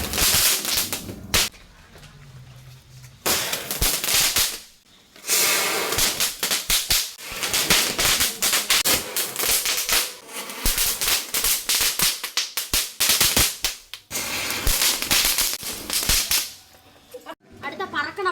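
Diwali firecrackers bursting outdoors, a rapid string of sharp cracks and pops in dense bursts with short gaps, loud and close, some chatter of people in between.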